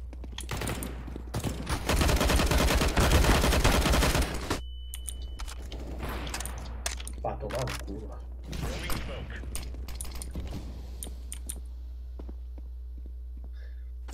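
A loud rapid burst of gunfire in Counter-Strike fills several seconds, followed by scattered shots, clicks and mechanical game noises.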